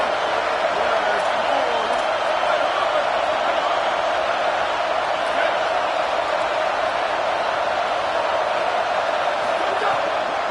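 A stadium crowd at an American football game roars for the defense on third down, a dense, loud, sustained wall of cheering with no break, play-by-play talk over it.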